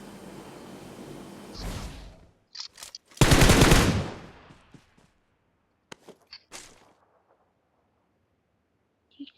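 Video game gunfire from M416 and DP28 weapons in PUBG: a couple of bursts, one long loud rattle, then scattered single sharp cracks separated by near silence.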